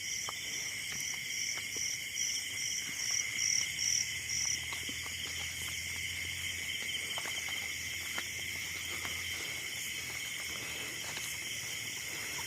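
Insects chirp and trill steadily at night beside a river, a dense high-pitched buzz holding on throughout with faint scattered ticks and no voices.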